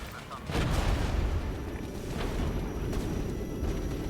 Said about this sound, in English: I'm calling in cluster bombs